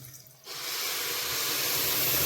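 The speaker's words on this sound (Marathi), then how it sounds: "तांदूळ जो आहे तो भरेपर्यंत आपण पाणी टाकणार आहोत." Water poured into a pot of rice for egg rice, a sudden steady rushing splash starting half a second in and continuing loud and close without pause.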